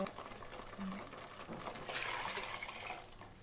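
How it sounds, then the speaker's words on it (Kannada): Water poured into a pan of spice paste for fish sambar, a soft gurgling trickle rising toward the end, fairly quiet and close. "ಉಳಿದಿರೋ ಮಸಾಲೆಗೆ ಸ್ವಲ್ಪ ನೀರು ಹಾಕೋತಾ ಇದ್ದೀನಿ"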